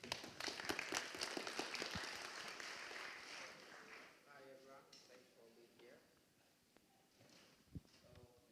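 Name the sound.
audience applause for a conference speaker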